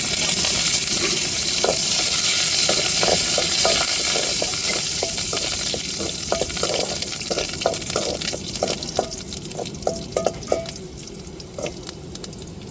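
Curry leaves fry in hot oil, a loud steady sizzle filling the pan while a spoon stirs and scrapes in repeated close clacks. The sizzle eases slightly toward the end.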